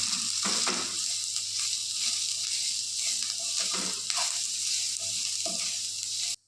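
Ginger garlic paste and turmeric sizzling among fried onions in a pan, a continuous close hiss with a few stirring scrapes, cutting off abruptly at the end.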